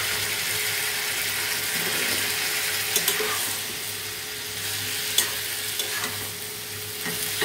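Dondul, a vegetable, fries in a pan with a constant bright sizzle, joined by occasional clicks and scrapes of stirring; no voices.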